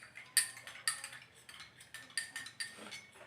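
A spoon clinks against a cup while a warm homemade remedy drink is stirred, a quiet series of light, bright taps at an uneven steady pace, close and otherwise still.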